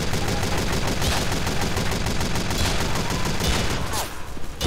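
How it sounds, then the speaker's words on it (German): Dense, continuous weapon fire and explosive impacts from Team Fortress 2, including grenade launcher hits, pound loudly and steadily throughout with almost no pause. "der gibt mir immer Direkttreffer mit dem scheiß Granatwerfer"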